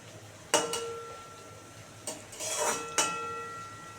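Metal lid set onto a cooking pot while fish roe is being cooked: three or four short clanks and clatters, close by and fairly quiet, with soft rattling between them.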